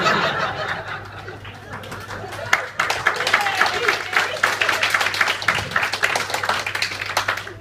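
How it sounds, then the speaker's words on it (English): Wedding guests at a reception applaud during a best man speech, a steady round of clapping that swells after a couple of seconds, mixed with chuckles and laughter from the room. "can we take this moment to have a round of applause for the two most amazing people in the room"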